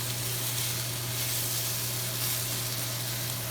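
Onions and apples cook down in a pan with a dense, even sizzle, close and steady throughout under a low constant hum.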